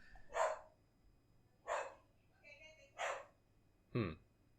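A very active dog barking, four separate sharp barks spaced about a second apart, fairly faint over a quiet background.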